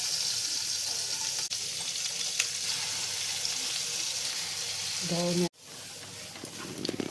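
Prawns and black cumin sizzle steadily in hot mustard oil for a Bengali shim vorta, a loud continuous frying hiss that breaks off abruptly near the end before resuming faintly.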